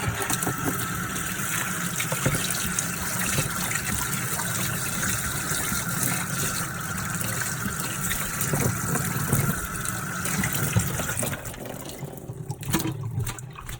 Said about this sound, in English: I'm going to go ahead and rinse it